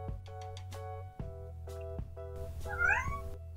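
A cat meows repeatedly in short, distinct calls that end in a louder, drawn-out meow, heard close and clear with no talk over it.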